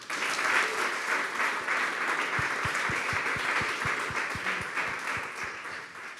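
An audience at a startup demo day claps steadily throughout, a dense, even wash of applause at moderate distance with no voices over it.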